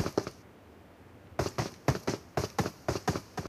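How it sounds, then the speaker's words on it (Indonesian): Steps arriving from a rooftop in PUBG Mobile, a few hollow taps, then a pause, then a quick, rhythmic burst of sharp, close footfalls with a gallop-like patter and no speech. "Langkah kaki saat datang dari atap."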